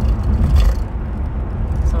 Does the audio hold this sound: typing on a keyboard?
no